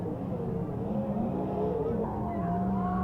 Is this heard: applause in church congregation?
no